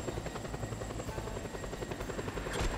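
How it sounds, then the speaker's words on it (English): A helicopter in a video game hovers close by, its rotor thumping in a fast steady rhythm under a loud continuous engine buzz, with no talk. "This helicopter asked for it."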